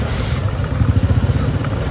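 Motorbikes crawling through a Kathmandu traffic jam, a low idling engine rumble with a pulsing, throbbing beat, steady and fairly close amid general street noise.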